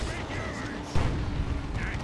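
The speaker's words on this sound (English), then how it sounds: "Beautiful Assault Cannon barrage right there" Rapid cannon barrage from a Space Marine assault cannon in the Dawn of War 2: Retribution strategy game, a dense, continuous rumble of fire with a sharper burst near the one-second mark, mixed with battle noise and a voice talking.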